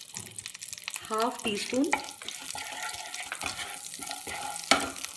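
Cumin powder fries in hot butter in a pan, a soft, close sizzle and crackle that runs under someone talking in Hindi.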